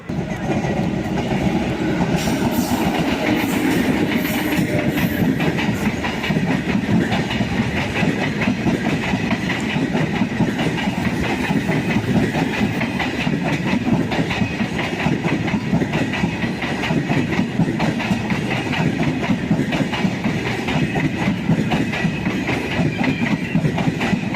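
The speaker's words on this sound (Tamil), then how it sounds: "சென்னை போகிற வைகை எக்ஸ்பிரஸ் 3rd பிளாட்ஃபார்மில் தான் வருது" The Vaigai Express train rolls into platform 3 at Dindigul station, a loud continuous rumble of wheels and carriages with rhythmic clickety-clack and engine drone filling the whole stretch, close by and steady throughout.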